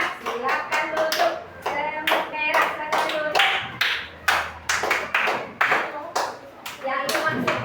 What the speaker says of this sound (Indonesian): kasih tepuk tangan buat semut merah